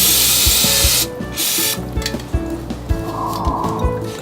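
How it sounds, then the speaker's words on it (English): Pam cooking spray hisses from the can onto a barbecue grill grate in a steady burst that cuts off after about a second, followed by quieter clicks and light clatter around the grill. "just spray the grate with a little bit of Pam"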